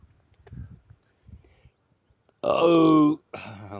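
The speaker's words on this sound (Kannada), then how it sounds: "ಮಧ್ಯಾಹ್ನ ಊಟ ತಿಂದಿದ್ದು ಇವಾಗ ಬರ್ತೈತೆ ತೇಗು" A loud, drawn-out belch after a midday meal, preceded by soft mouth sounds and followed by a shorter second burp, close to the microphone.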